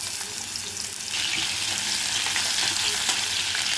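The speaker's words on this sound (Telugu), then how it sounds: "ఇప్పుడు వెల్లుల్లి తరుగు వేసుకున్నాము" Chopped garlic hits hot oil alongside chana dal for an aloo palak fry, setting off a loud steady sizzle that swells slightly after the first second and holds without talk.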